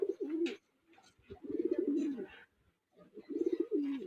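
Pigeons coo in low, rolling bursts, three phrases with short gaps between them, close and moderately loud, with faint chirps above and no talking.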